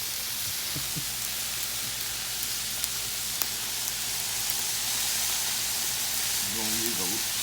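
Chicken fried rice with soy sauce sizzles steadily in a hot pan in a Nashville restaurant kitchen, with a constant bright hiss, a few light clicks of utensils and a brief tonal sound near the end.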